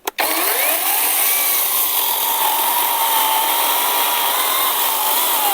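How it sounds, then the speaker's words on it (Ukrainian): After a brief start-up, a cordless ABS L-212 battery chainsaw cuts into pine wood: a loud, close, continuous high-pitched motor whine with a slowly shifting pitch as the chain works through the cut. "пробуємо із сосни і побачимо, скільки цей акумулятор зробить різів"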